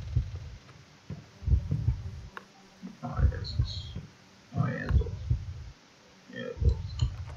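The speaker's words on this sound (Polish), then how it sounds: "Naszemu bohaterowi bije serce" Heartbeat in the horror video game Dungeon Nightmares, a low, soft, regular thumping pulse with a steady rhythm, running under quiet in-game ambience and someone talking over it.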